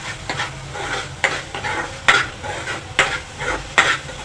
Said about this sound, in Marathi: आणि छानपैकी मिक्स करा हा टोमॅटो मसाल्यांमध्ये छान परतून घ्या